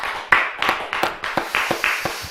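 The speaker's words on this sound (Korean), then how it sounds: "하나님께 우리 영광의 박수 올려드리겠습니다." Church congregation at a Friday late-night worship service clapping in a steady rhythmic pattern, about eight sharp claps in close succession, loud and near with no talking.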